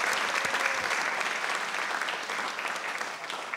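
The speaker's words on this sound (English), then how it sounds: "let's give a great round of applause for all of these schools" An audience at a Prince William County school board meeting gives a sustained round of applause. The even, fairly soft clapping continues unbroken for several seconds with no talking.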